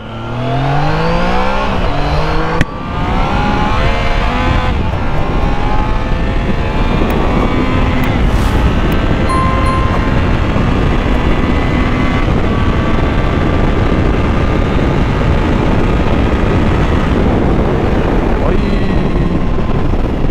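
A Triumph Trident 660 three-cylinder motorcycle revs and accelerates hard, its loud engine note rising through the gears with steady wind roar, heard close from the rider's position.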